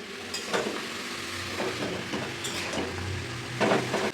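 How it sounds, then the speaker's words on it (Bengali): Bottle gourd frying in hot oil with spices in a pan, a steady close sizzle broken by scraping stirs and a few clinks of a utensil against the pan, with no talk. "লাউটা দিয়ে একটু ভাজা ভাজা করে নিই"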